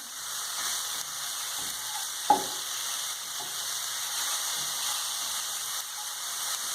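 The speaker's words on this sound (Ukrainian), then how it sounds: "Смажимо до готовності грибів приблизно хвилин 5" A soft, steady sizzle of mushrooms frying in a pan, with a single sharp click partway through and no talking.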